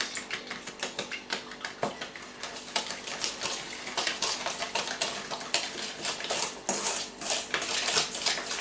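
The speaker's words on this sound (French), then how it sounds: "Donc, 4 œufs entiers et remue." Four whole eggs stirred in a bowl, giving a steady run of quick clinks and taps of a utensil against the bowl, moderately close and with no talking.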